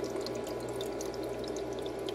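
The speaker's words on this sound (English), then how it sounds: "Filling up the water again for the other process" Water pours steadily into a Tramontina portable ice maker, a faint continuous trickle and splash over a low background hum.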